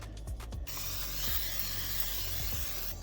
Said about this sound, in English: I'm gonna spray it with a little olive oil.